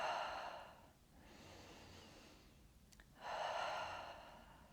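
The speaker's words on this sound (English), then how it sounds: "3 deep breaths again." Slow, deep breaths during a seated chair yoga exercise, heard as a soft airy inhale, a long quiet exhale and another inhale, close and faint.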